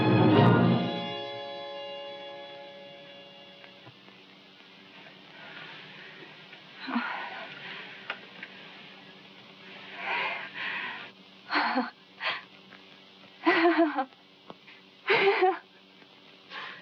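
A sick man whose fever has just broken wheezes in a 1946 film, his breaths coming as faint, rasping pulses after a fading music chord, growing into several clearer wheezy gasps toward the end.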